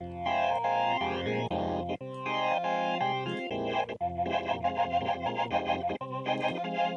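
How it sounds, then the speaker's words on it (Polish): Electric guitar played through a FreeST GutterSnipe distortion pedal, giving a loud, saturated, harmonically rich tone as chords and riffs are strummed in short phrases with brief gaps between them. "Poprzez odpowiedni dobór ustawień tych potencjometrów można uzyskać określony charakter zniekształcenia dźwięku."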